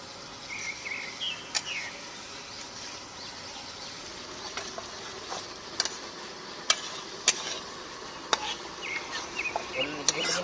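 Cashew and poppy seed paste being stirred in a pan over an outdoor fire in a forest on a rainy day. Faint scraping and occasional sharp clicks sound under a steady hum of insects.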